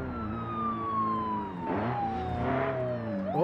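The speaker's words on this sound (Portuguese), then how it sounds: "Olha, sirene. Sirene aqui na frente." Wailing police siren in the BeamNG.drive driving game, a steady tone sliding slowly downward through the whole stretch, with engine rumble underneath and no talk over it.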